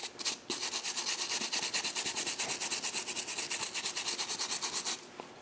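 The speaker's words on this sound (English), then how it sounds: "Somewhere over here I have a fiberglass brush. Just a little soldering brush here." A small fiberglass soldering brush scrubs rapidly back and forth over a bear claw, a close, bright scratching in a quick even rhythm of strokes lasting several seconds, with no talk.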